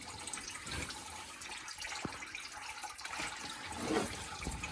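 Coolant drains from the 5.3 engine of a 2002 Chevy GMC 1500 during a water pump job, a continuous faint trickle and splash with no talking.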